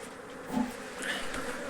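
Honey bees from a large swarm being hived into a big box hum in a steady, close buzz that swells slightly partway through, with no voices.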